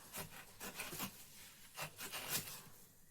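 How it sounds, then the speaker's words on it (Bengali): Young jackfruit being cut up with a knife for a mutton-fat jackfruit curry, giving a series of rough, scraping cutting strokes at an uneven pace, close and fairly quiet, with no talking. "এঁচোড়টা এবার আমি কাটছি।"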